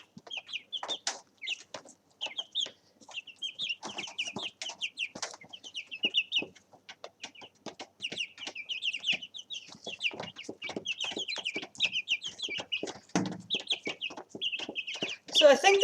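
Young chicks being raised indoors keep up a continuous stream of rapid high peeps and clucks, close and lively, with scratchy rustling mixed in throughout.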